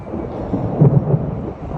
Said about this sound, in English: Thunderstorm slowing us down on the garden work